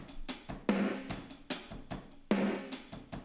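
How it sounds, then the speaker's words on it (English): Programmed acoustic drum kit playing a steady groove, punchy kick and snare hits with cymbal wash, clear and upfront with no voices. "you hear these like acoustic drums coming in the background"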